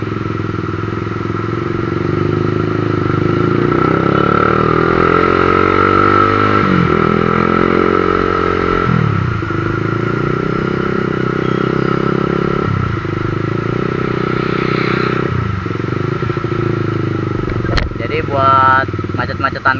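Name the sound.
Honda CBR 150 motorcycle riding and accelerating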